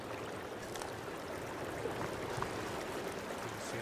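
Water flows steadily in a small stream in the Sons of the Forest game, a faint, even rushing hiss and trickle that continues without pause and without talk.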